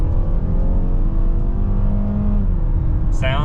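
A 2023 Mazda CX-5 S Select AWD in sport mode pulls at full throttle from a rolling start, its engine drone rising steadily in pitch from inside the cabin, loud and continuous, with a brief voice at the end.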